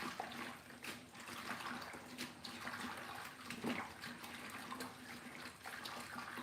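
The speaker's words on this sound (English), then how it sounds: "Let's run some water over it." Tap water runs steadily over Nigerian leafy vegetables, anyara and otazi, in a home kitchen, making a continuous moderate splashing wash with small irregular bursts and no talk.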